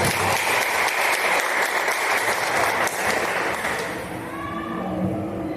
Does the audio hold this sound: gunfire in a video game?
no